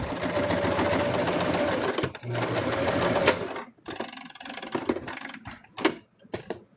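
A sewing machine stitches a plush toy in a close, loud, rapid mechanical chatter for about three and a half seconds, then breaks into short intermittent bursts and clicks as a person talks.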